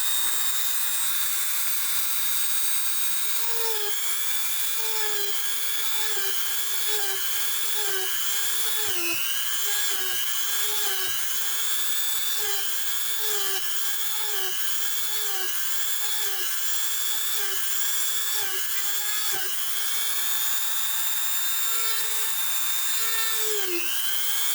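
Small drill boring a hole while a lion mask is assembled, a high steady whine running continuously with slight dips in pitch as it bites into the material, loud and close.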